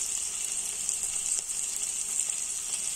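Chopped tomato frying in a pan for sambar, a steady close hiss and sizzle of oil with no talk over it.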